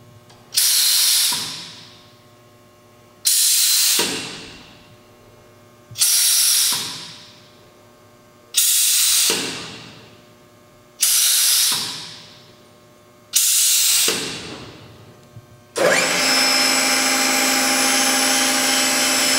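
An Evans 2480 sink cut-out router with a three-horsepower motor runs in six short bursts, each spinning up loudly and winding down, then settles into a steady continuous roar at the end.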